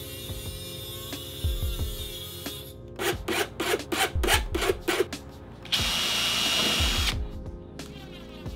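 A power drill drives screws into piano hinges for a wooden tool cabinet, giving short repeated whirring bursts followed by a longer steady run, close up, with no talking.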